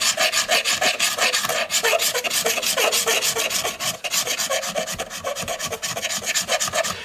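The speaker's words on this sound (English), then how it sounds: "I will just scrape that off. This X-Acto knife can be a good scraper for something like this." An X-Acto knife scrapes old glue off a wooden mandolin in quick repeated rasping strokes, close and steady with no talking.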